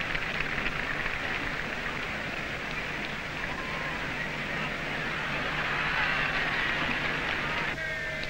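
Steady rain falls across an outdoor athletics meeting on a grey, cold, windy day, a constant moderate hiss of droplets with no speech heard.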